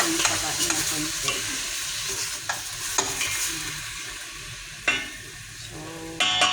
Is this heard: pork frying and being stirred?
yes